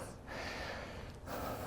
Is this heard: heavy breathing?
yes